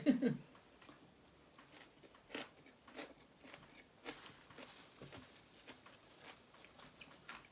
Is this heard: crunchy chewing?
yes